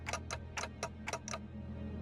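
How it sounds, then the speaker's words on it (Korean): Ticking from the video game Limbus Company comes as six quick, evenly spaced clicks in under two seconds. The ticks are faint over a low droning background. "째깍대는 소리가 빨라지는 걸 보니 아파하기는 하나 봐."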